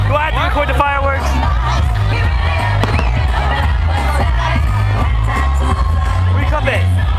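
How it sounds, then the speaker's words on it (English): New Year fireworks burst in loud, sharp cracks over a crowd that cheers and shouts close by, while people talk loudly throughout. "Record the fireworks."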